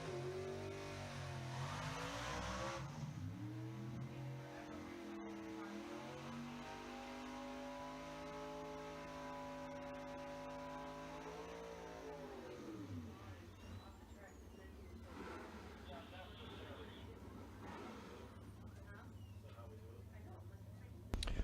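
Gasser drag race cars, including a 1953 Chevrolet Bel Air, a 1940 Chevy coupe and a Willys, roar and rev loudly at a drag strip, the engine drone rising and falling steadily while a commentator talks over it.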